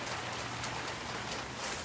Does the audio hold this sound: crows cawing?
no